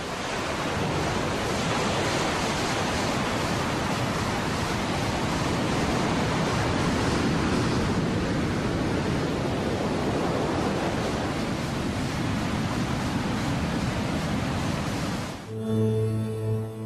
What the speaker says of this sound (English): this raging tide tears whole blocks of sediment out of the mountains